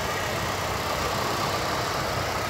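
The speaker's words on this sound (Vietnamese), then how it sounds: "Máy nổ cực kỳ êm, đây quạt gió đang hoạt động làm mát máy này." A 2008 Toyota Innova V with an automatic transmission idles smoothly while its radiator cooling fan runs. The result is a steady, close, broadband whoosh over a low engine hum, with no speech.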